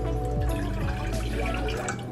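Water pours into a medium saucepan on medium heat for churro dough, a close, continuous splashing and trickling that fills the pan for a couple of seconds, with background music underneath.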